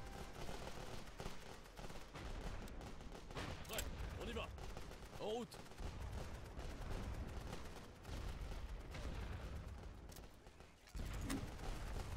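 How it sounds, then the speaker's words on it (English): Sustained bursts of machine-gun fire from two emplacements in a World War I Western Front strategy game, dense crackling volleys layered over battlefield rumble, with speech mixed in. "we got double machine guns on that side"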